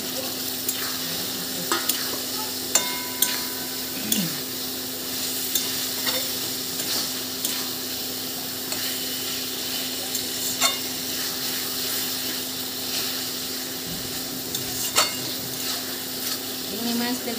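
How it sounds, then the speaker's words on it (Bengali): Prawns fry in oily spice masala while being stirred, a continuous close sizzle broken by regular scrapes and clinks of a spoon against the pan. "চিংড়ি মাছটা দিয়ে একটু কষিয়ে নেব।"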